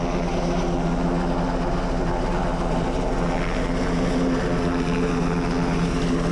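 A mountain rescue helicopter works above moorland at Kinder Low in gusty wind, its rotor and engine making a loud, steady, unbroken drone close overhead with no speech.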